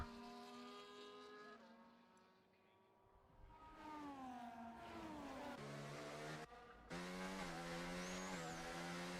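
Several F1 race car engines in a racing video game whine and rev with shifting pitch as the cars leave the garage, a steady engine drone rising and falling, with a brief cut near the end.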